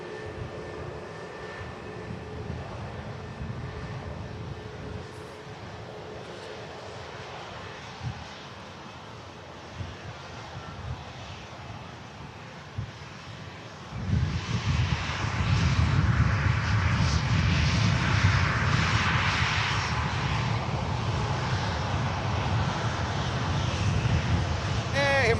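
Virgin Atlantic flight VS75 to Orlando departing Manchester Airport: a distant engine hum under a talking voice, then a sudden surge about halfway as the jet's roar swells loud and stays strong to the end.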